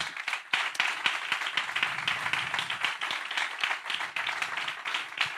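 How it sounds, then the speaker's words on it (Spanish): A church congregation claps for the Lord, brisk and fairly loud, with sharp individual hand claps standing out of a continuous, rhythmic round of applause. "Dale un aplauso al Señor."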